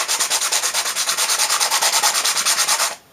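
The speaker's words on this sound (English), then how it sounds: "Sanding takes forever." Hand sanding of a wooden ukulele bridge: quick, steady back-and-forth rasping strokes, close and loud, about a dozen rhythmic passes before stopping abruptly.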